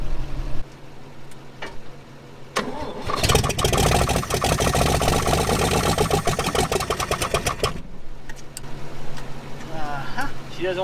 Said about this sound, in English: here's the exhaust right here, and there is nothing there. That's why it's so loud. But she does run.